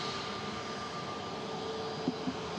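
A Boeing 737 MAX 8-200 jet departs Manchester Airport for Murcia, heard as a steady, distant engine roar with a thin whine, constant and faint across the short stretch.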